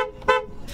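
A car horn sounds in short honks, a brief blast near the start and a stronger one in the middle, then a fainter tone trailing at the end.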